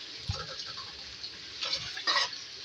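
Ginger garlic paste frying in a pan for a potato and chicken liver dish, a soft steady sizzle with a few stirring scrapes, including a louder one near the end.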